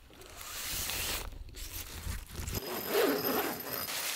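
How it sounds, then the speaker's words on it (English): Zipper on the door of a Hilleberg Soulo one-person four-season tent, fitted with a rubberized storm flap; the zip rasps nearby in several uneven pulls and tugs with fabric rustling between them. "You have this rubberized flap that protects the zipper that keeps water and snow out."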